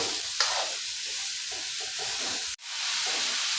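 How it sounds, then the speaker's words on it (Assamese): Banana flower curry stirred in a pan after salt goes in, a continuous close hiss with soft scraping strokes and one brief sharp knock near the end. "নিমখ দিয়াৰ পিছত অলপ লৰাই ল'ম।"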